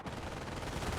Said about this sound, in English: he's got this machine gun covering the rear